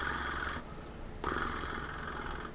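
A low, continuous rumbling purr imitated by a human voice, steady and close, with a brief pause partway through before it resumes.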